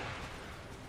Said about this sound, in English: let me get on with my artillery duel